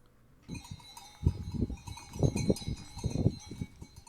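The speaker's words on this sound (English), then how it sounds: "Grazing cows listen to accordion music." Cowbells clank and jingle irregularly among grazing cows, with several louder bursts of clanking and animal movement over a quiet outdoor background; no clear accordion melody stands out.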